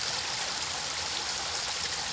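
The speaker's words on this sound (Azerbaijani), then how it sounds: "kəndin ən mötəbər bulaqlarından olan Narcan bulağının yaxınlığındayım." Narzan mineral spring water at a village spring pours in a steady, close hiss of flowing water, continuous and even with no talking.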